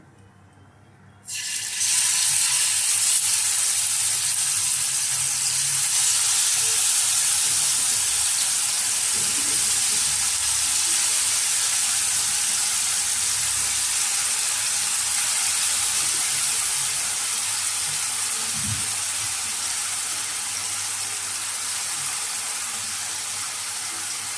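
Marinated chicken dropped into well-heated oil for a chicken roll, erupting into a loud, steady hiss and sizzle that starts abruptly and holds strong throughout with little change.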